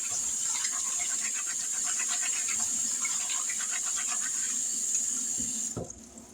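Brown beans washed under running water at a kitchen sink, a steady rushing tap stream with faint swishing and splashing, cutting off near the end.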